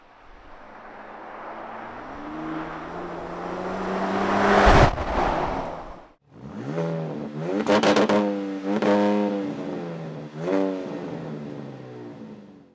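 A 2025 Ram 1500 RHO pickup truck's engine builds under load as the truck accelerates on dirt roads, a rising drone that swells, briefly cuts out, then returns with rhythmic revving surges, fairly close and without talk.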